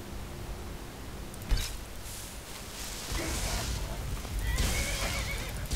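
A horse in the video game Skyrim neighs twice, with loud whinnies about midway and again near the end, over rumbling game background noise and a sharp thud.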